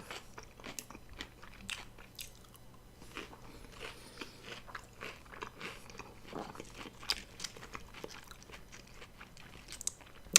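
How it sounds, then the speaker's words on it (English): Someone bites into and chews a crunchy vegan meat pie crust close up, giving repeated crisp crunches and soft chewing at a low, steady level without talk. "I love that subtle crunch on the outside of the crust here"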